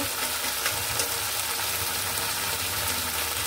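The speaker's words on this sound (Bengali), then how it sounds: "এবার এটাকে আমি সুন্দর করে কষিয়ে নেব" Green chillies, salt, turmeric and red chilli powder sauté in hot oil in a pan, giving a steady close sizzle with faint stirring scrapes and no voice.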